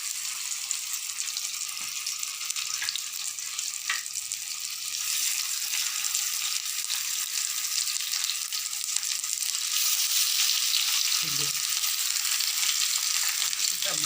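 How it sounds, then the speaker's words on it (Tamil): Potato-stuffed capsicum shallow fries in oil on a tawa, a steady bright sizzle that runs the whole time with occasional soft knocks and no talking. "இது மிளகா உருளைக்கிழங்கு போட்டு ஸ்டஃப் பண்ணி அதை தவால தலை ஃப்ரை பண்ண போகிறேன்"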